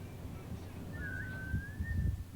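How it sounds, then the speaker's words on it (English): A faint, wavering whistle drifts in and bends up and down in pitch over a low background rumble, thin and somewhat distant. "You'll know a hunting gambit is in progress by the stranger's erratic whistling pattern."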